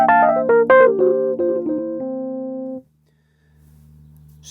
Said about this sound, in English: So that Rhodes that my friend listened to in that club in New York was the Rhodes 2 setting here,